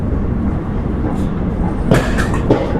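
The Howrah-Mokama Express rolls along the rails after leaving Bardhaman station, a loud, steady rumble from inside the carriage with sharp metallic clanks and squeals near the end.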